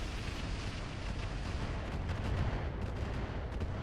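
Mech weapons firing in the RogueTech game, a dense continuous roar of rumbling blasts and booming impacts with no clear gaps.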